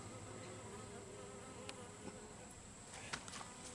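Honey bees buzzing inside their hive, a steady, close, dense drone that holds level throughout, with a few faint knocks and clicks on top.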